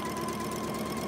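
A sewing machine runs steadily, stitching fabric through a pineapple log cabin quilt block in one continuous close, loud hum with no voice over it.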